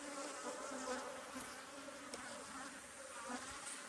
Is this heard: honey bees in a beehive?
yes